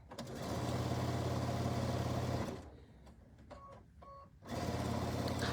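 A sewing machine stitches along the edge of a double herringbone oven mitt, running in a close, steady whirring burst, stopping briefly with a few small mechanical clicks, then starting up again.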